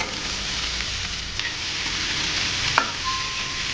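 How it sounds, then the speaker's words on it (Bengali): Chopped onion flower stalks fry with onion in hot oil, giving a steady close sizzle with light stirring and one sharp clink of a utensil. "এখন আমি পেঁয়াজ ফুলের ডাটাগুলো দিয়ে দিচ্ছি।"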